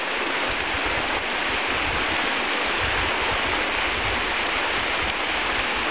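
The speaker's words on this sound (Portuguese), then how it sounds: "A décima cachoeira." Steady, loud rush of a canyon waterfall fills the whole clip, a continuous broadband roar with no voices, close by.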